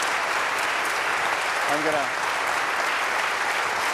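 A lecture audience gives sustained, even applause throughout, with a voice briefly speaking over it midway.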